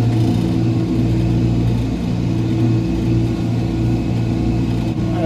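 A tractor pulls a Pöttinger Servo 25 four-furrow plough through a field, a loud, steady, droning engine hum with a constant low rumble throughout.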